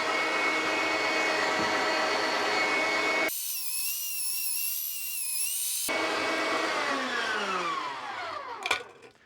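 A home meat grinder churns sausage meat for cheddar jalapeño sausages, a loud steady motor whine running continuously, briefly shifting to a higher strained pitch midway before settling back and winding down with a clatter near the end.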